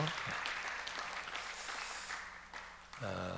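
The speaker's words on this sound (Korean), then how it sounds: "우리 박수로 한번 환영하겠습니다." A church congregation at a Korean Sunday service applauds to welcome a visiting pastor, a continuous moderate patter of many hands that thins briefly before a final swell.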